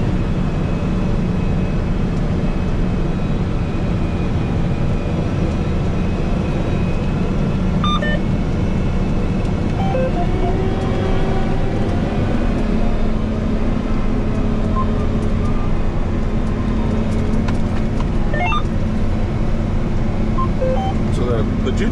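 A 600-horsepower Challenger MT875E tractor on auto guidance pulls a 34-foot Wishek disk across a field, its engine a steady, loud, continuous low drone with faint rattles and clanks from the implement, while people talk over it.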